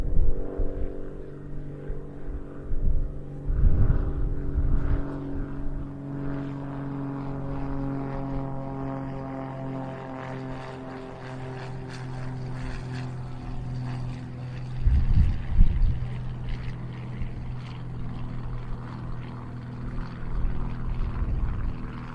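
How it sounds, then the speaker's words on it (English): A Royal Air Force Grob Tutor T1 propeller trainer takes off at the RIAT 2024 air show, its steady droning engine note rising and shifting in pitch over about twenty seconds, heard from a moderate distance. "Royal Air Force Tutor T1 next to take off."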